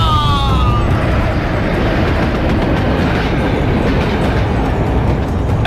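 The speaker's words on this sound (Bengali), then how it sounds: "আর ঠিক সেই সময় ট্রেনটাও প্রচন্ড দুলে উঠলো একবার।" A moving train rumbles steadily and loudly throughout, a dense continuous roar of rail wheels and carriage noise, with a brief high whine at the start and no voices.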